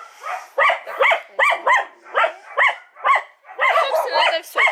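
Many dogs at a stray animal shelter holding around 80 dogs bark repeatedly in a steady rhythm of loud, close, overlapping barks and yips, with short pauses between bursts.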